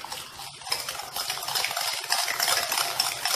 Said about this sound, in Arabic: غادي نخلطو مزيان